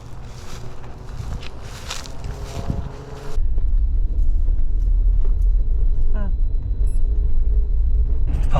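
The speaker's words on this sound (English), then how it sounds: "I'll drive you down there, it's faster." A car drives along, its low engine and road rumble steady and loud after a change partway through, with wind buffeting the microphone and some speech in the background.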